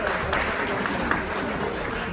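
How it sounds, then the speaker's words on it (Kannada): Applause for donors at a senior citizens' association monthly cultural programme; a room full of people claps steadily and fairly loudly throughout, with some voices mixed in. "ಸೊ ಈ ದಾನಿಗಳಿಗೆಲ್ಲ ಒಂದು ದೊಡ್ಡ ಚಪ್ಪಾಳೆ ಬರಲಿ."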